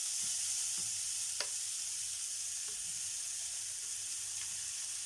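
Three medium chopped onions hiss and crackle in hot ghee, a steady close-up sizzle that holds evenly throughout with a few faint clicks.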